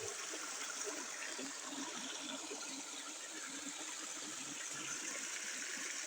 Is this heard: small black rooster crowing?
no